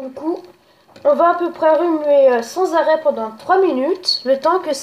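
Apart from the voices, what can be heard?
No everyday noise stands out behind the speech.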